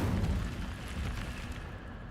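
An Incendio fire spell cast in a wizard video game gives a continuous, dense roaring whoosh of flame. It is loud from the start and eases slightly over about two seconds, with no voices.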